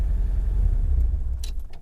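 A LuAZ off-road car drives on a dirt road, its engine giving a loud, steady low rumble close by, with a couple of brief rattles near the end.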